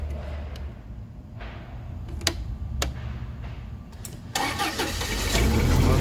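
A car engine is started cold, with faint ticks and a short cranking before it catches at about four seconds and settles into a steady mid-pitched idle that grows slightly louder, close by and without speech.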